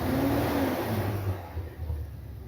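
A 1979 or 1981 Corvette engine revs and idles unevenly nearby, a rough, lumpy low rumble that swells early and then settles into an uneven running note.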